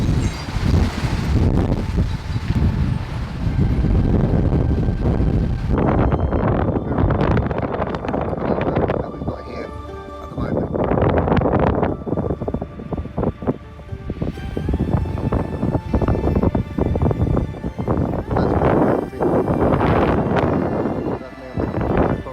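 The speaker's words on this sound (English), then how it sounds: "the winds are up to 75 kilometres an hour up north" Strong wind gusts in Tenerife, reaching about 75 km/h, buffet the microphone in loud roaring surges that rise and fall, with brief quieter lulls between blasts and a few faint voices in the background.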